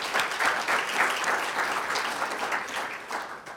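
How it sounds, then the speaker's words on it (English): An audience gives sustained applause for Miguel Ángel Moratinos, UN Under-Secretary General, with dense, even clapping that holds steady throughout and eases slightly at the close. "let's hear one more applause for Mr."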